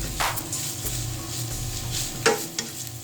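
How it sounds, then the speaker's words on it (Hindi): Garam masala is stirred into a sizzling chicken kachori filling in a pan, with close scraping strokes and a couple of sharp spoon knocks over a low frying hiss. "थोड़ा सा जो है वो गरम मसाला जो है वो इसके अंदर डालेंगे और इसको आपने इस तरह से मिक्स कर देना है"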